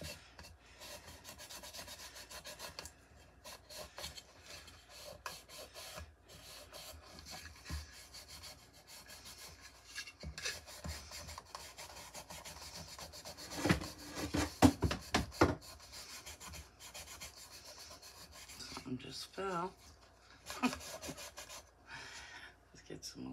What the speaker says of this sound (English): I'm just going to stain it all.